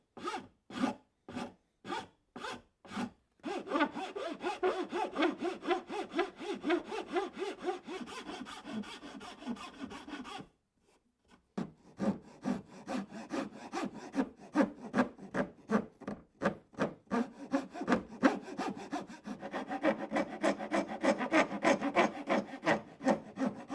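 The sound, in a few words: filing a wooden sword with a rasp file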